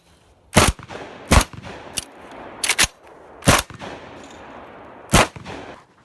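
A QBZ bullpup shotgun fires Remington ammunition outdoors, producing six loud, sharp blasts at irregular intervals. Each blast has a brief ringing tail, with near-silence between shots.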